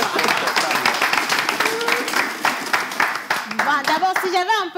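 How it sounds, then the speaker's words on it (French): An audience claps for a motorcycle being given away at a prize draw, a dense patter of hands running throughout, with voices and rising whoops cutting in over the clapping toward the end. "On applaudit pour la moto."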